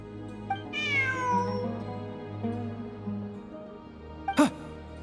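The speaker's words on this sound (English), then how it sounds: "Look! A cat!" A cat in Genshin Impact meows twice, a clear rising-falling cry near the start and a sharp short meow near the end, over a soft low background hum.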